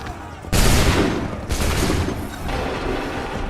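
Musket volleys ring out in a battle scene from Assassin's Creed 3, three loud massed blasts about a second apart, each a broad burst of crackling gunfire that decays into smoky rumble.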